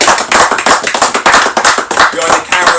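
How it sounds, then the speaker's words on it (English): Clapping at the end of a winter survival challenge, a small group's loud, separate slaps in a quick uneven rhythm, each hit distinct and close. "give yourself a round of applause"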